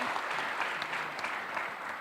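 Audience applause at a smart city international symposium in Daegu, steady dense clapping from a seated crowd, moderately loud and continuous throughout.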